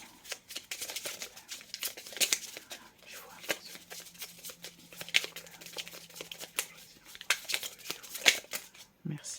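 Tarot cards shuffled and drawn, a close run of quick riffling flutters and soft card snaps, repeating in short bursts beneath a quiet voice.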